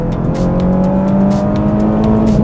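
A Renault Clio Sport 182 engine revs hard and loud toward the limiter, a rising, sustained tone heard close up, broken by quick rhythmic ticking pulses.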